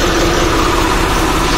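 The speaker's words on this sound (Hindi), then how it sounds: "क्या जबरदस्त साउंड क्वालिटी है भाइयों ट्रैक्टर की" A tractor engine idles steadily close by, a low, even rumble with a constant mechanical vibration and no voices.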